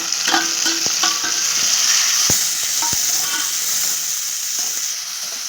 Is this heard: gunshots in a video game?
no